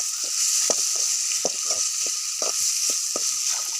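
Food sizzles in a pan with ground pepper while a utensil stirs it, producing a string of quick scraping knocks over a steady hiss.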